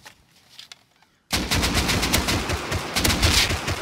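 Automatic gunfire in the survival game Rust starts abruptly after a brief quiet lull, then rattles on as a loud, dense, rapid string of shots to the end.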